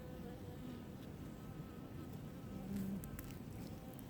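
Honeybees hum steadily in a calm cluster over the central brood box of a cold-way hive, a dense continuous drone that stays close and even throughout with no voices.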